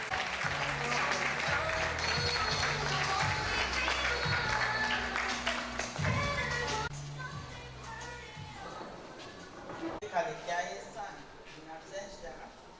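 An audience at a staff association capacity-building event in a Nigerian polytechnic applauds steadily for several seconds; the clapping then fades as speech resumes.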